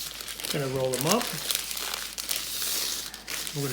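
Paper crinkles and rustles as oatmeal cookie dough spread on it is rolled up into a log, a steady crackling close to the mic while a person talks over it.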